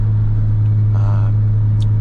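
A Nissan 300ZX twin turbo with upgraded exhaust manifolds and a full exhaust drives along with a loud, steady low engine drone heard from inside the car, holding an even note with no talk.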